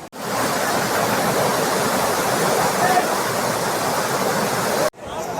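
Rushing water flows above TK Falls near Bengaluru, a loud, steady close roar that cuts off abruptly near the end.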